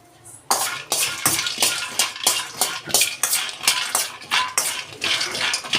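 Almonds, cashews and about 2 grams of cardamom being dry-roasted in a pan, with repeated close scraping and clinking of a spoon against metal in a steady stirring rhythm, alone without talk.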